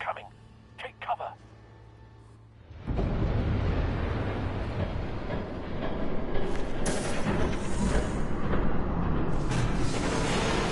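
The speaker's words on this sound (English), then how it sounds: "There's a train coming. Take cover." In Batman: The Telltale Series, a train bursts in after a few quiet seconds with brief voice sounds, then a loud, sustained roaring rumble fills the rest, swelling and clattering close by.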